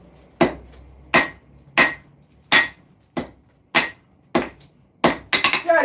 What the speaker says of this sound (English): I just gotta forge the corners down to start hammering in the point.